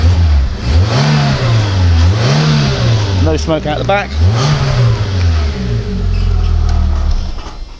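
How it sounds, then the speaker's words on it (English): Peugeot 106 engine revving close by in repeated rising and falling blips, with a quick burst of revs midway, while a person talks over it. "The engine does sound sweet, doesn't it"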